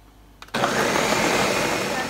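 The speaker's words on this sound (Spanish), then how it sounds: "Ahora tapamos la licuadora y la vamos a licuar por unos segunditos." A kitchen blender roars to life after a brief click, whirring loudly and steadily as it purées tomato sauce with a little water, running close and continuous to the end.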